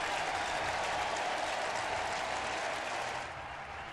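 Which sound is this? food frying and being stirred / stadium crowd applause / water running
stadium crowd applause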